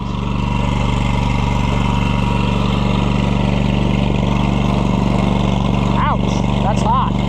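A Kohler Command Pro engine idles steadily on a Scag Turf Tiger mower with its exhaust leaking, a constant loud drone throughout, and a voice speaks briefly near the end.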